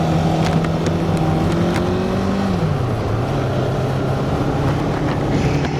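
A motorcycle rides along with a loud, steady engine drone and constant wind rush, the engine note dropping as it shifts or eases off partway through, heard from on board.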